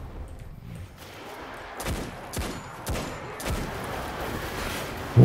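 Bursts of gunfire from a weapon in Destiny 2, a rapid series of sharp shots in quick succession over a low game background, fairly loud with brief pauses between volleys.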